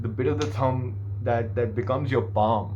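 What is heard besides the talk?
No distinct noise like a dog, phone or traffic.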